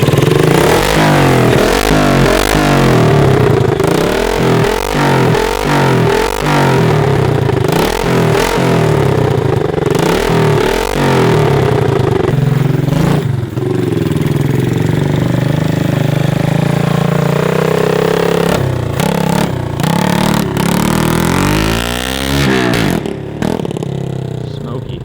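A Honda CT70 motorcycle running with a new exhaust, close and loud, with a series of short throttle blips over a rough idle, then longer revs rising and falling before it settles.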